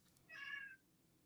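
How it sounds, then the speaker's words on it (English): A cat gives a single short meow indoors, faint and fairly distant, standing alone against a quiet room background with no talking. "Oh, and I heard a kitty."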